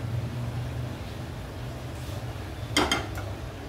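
A cooking pan is set on a stovetop before oil goes in for a paneer dish, with a quick cluster of metallic clinks late on over a soft, steady background hum.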